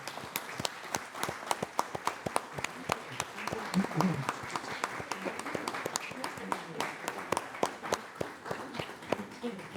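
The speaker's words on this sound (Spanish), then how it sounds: "A él un aplauso" An audience at a club meeting applauds a founding member, with many individual hand claps ringing out crisply and continuously at a brisk, uneven pace for about ten seconds.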